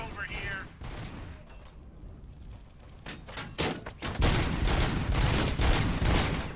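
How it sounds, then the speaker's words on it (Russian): Gunfire in RoboCop: Rogue City, with bursts of rapid shots that grow denser and louder toward the end and mix with heavy impacts and game ambience. "Это просто кто-то по мне стреляет."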